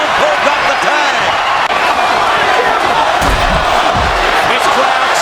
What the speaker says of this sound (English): This crowd chanting for Stone Cold Steve Austin